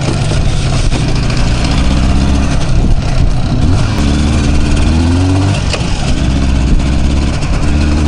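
A Jupiter 5 motorcycle engine idles loudly and close by, a steady throbbing chug that shifts slightly in pitch now and then.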